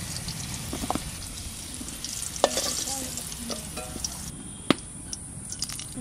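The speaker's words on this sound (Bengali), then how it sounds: "হালকা ভেজে নিলাম।" Spices with a little turmeric being lightly fried and stirred in a pan: a steady close sizzle broken by scraping stir strokes and a couple of sharp clinks, with no talking.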